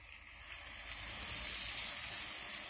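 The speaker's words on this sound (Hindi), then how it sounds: "प्याज को हम हल्का सा फ्राई करेंगे" Finely chopped onions frying lightly in a pan, a soft, even hiss of sizzling oil that rises gently and holds steady throughout.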